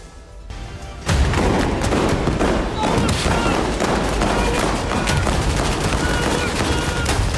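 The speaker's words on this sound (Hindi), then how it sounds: "आईडीएफ के सैन्य वाहन पर हमास ने रॉकेट अटैक किया, जबरदस्त फायरिंग की" Heavy gunfire erupts during a Hamas attack on an Israeli military vehicle in the Gaza Strip, a dense, continuous crackle of rapid shots and booms that starts abruptly after a second and rolls on unbroken.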